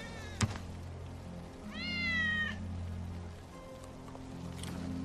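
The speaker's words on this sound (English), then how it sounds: "That's Wedge's cat." A single cat meow in the Final Fantasy VII video game, a clear rising-falling cry standing out over a low ambient hum, preceded by a sharp thunk.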